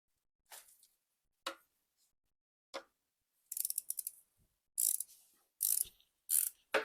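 Work on a coolant heat exchanger hose on a BMW N63 V8 in an F01 750i produces a series of sharp, quiet mechanical clicks and ratcheting bursts, close up and separated by silence.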